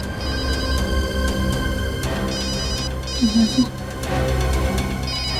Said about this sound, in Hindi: कब से फोन बज रहा है, उठा लो।